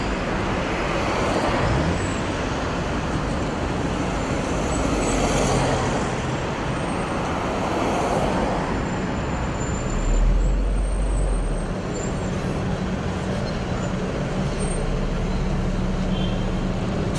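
A London double-decker bus on route 111 pulls away from Hounslow bus station with a loud, steady engine drone, air-brake hiss and surrounding traffic rumble throughout.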